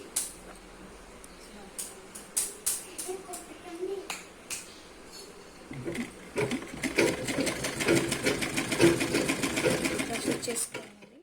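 Sewing machine stitching blouse cloth: after several sharp clicks and handling taps, the motor starts and runs in a steady close-up whir of fast needle strokes while someone talks over it.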